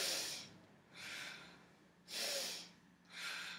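Deep, slow breathing during a yoga fire flow, four strong breaths up close in an even rhythm with brief quiet gaps between them, and no talking.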